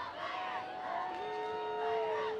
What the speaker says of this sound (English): there's a lot of fans that are screaming live tonight